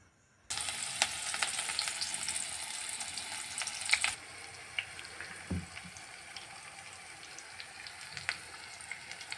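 Grated green mango and chopped onion hit hot oil in a pan with a sudden loud sizzle that settles into steady frying, punctuated by a few clinks and scrapes of stirring.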